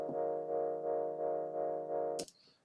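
Steady, buzzy single-voice wavetable synthesizer pad tone held for about two seconds with a faint pulsing wobble, then cut off abruptly.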